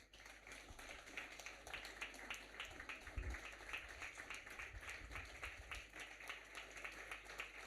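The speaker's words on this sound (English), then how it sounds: "hearty round of applause." Conference audience clapping to welcome guests at an international theology conference, steady moderate applause throughout, somewhat distant in a large hall, with a few low thumps partway through.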